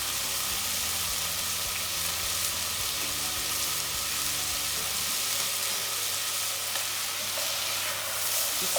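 Chopped onion and dried basil sauté in a pan for tomato and basil soup, making a continuous close sizzle with light stirring and no talking.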